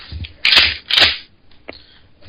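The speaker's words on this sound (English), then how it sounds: "This is the sound of me loading a shotgun." Shells are loaded into a Mossberg 500 pump shotgun, heard as two loud close metallic clacks about half a second apart, then a small sharp click.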